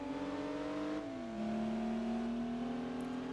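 Audi A3 3.2 Quattro engine in Gran Turismo 4, a steady tonal engine drone holding near constant pitch, dipping at a gear change before settling and building again, clear and alone.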